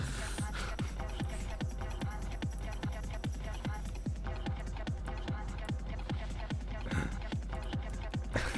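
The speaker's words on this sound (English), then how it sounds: "I hear stomping down the stairs." Heavy footsteps stomp down a flight of stairs in a quick, even rhythm of thuds, roughly three per second, continuing steadily and fairly close throughout.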